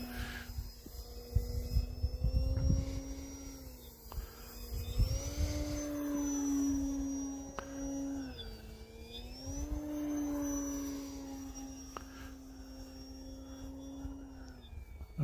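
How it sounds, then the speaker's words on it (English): A small RC model propeller plane buzzes steadily overhead, its whine rising and falling in pitch as it passes back and forth, with wind rumbling in the background on a snowy day. "I'm getting more and more used to this airplane."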